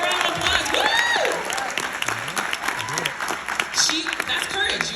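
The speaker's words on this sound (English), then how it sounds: "Can we give her a round of applause?" A keynote audience at a Black History celebration event gives sustained applause with scattered cheers and whoops for a student, with voices calling out over the dense clapping throughout.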